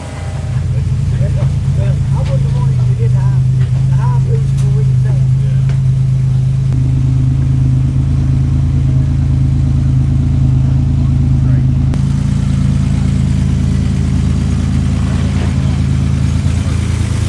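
A loud, steady drone from an 800-horsepower turbocharged Buick engine holds a continuous low rumble, stepping up in pitch and intensity twice as it is run up.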